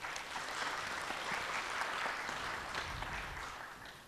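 A seminar audience on agricultural science and technology claps in a brief round of polite applause. The sound is faint and even and fades out after about four seconds.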